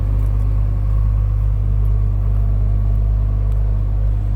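A 1986 Toyota Supra Mk III engine idles steadily and close by, a smooth low rumble with a constant hum and no voices over it.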